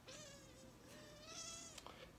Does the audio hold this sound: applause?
no